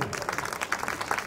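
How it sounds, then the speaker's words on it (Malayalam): Short burst of crowd clapping at an awards moment for a badminton competition winner, quick scattered claps at moderate volume, fairly close. "നല്ലൊരു കൈയടി."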